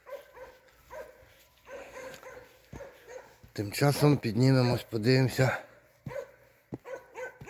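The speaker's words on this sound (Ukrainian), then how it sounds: "О, мій любимий собака з'явився." A dog lets out a burst of high, strained whining and yelping midway through, close and fairly loud, with a person talking before and after.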